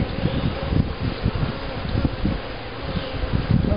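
Honeybees buzzing steadily close by as a hive is opened for an inspection in April, a dense, continuous drone with soft rustling of frames and no talk.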